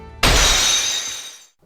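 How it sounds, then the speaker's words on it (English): An Ace Attorney–style psyche lock shattering effect: a sudden loud crash of breaking glass with a bright, glittering tail that fades over about a second before going silent. "A second psyche lock shattered"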